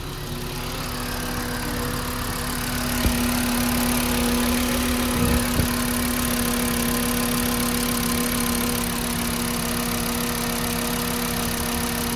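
Mk6 VW Jetta 2.5-litre engine after a cold start, idling steadily with a constant low hum and a few faint clicks, close and unbroken throughout.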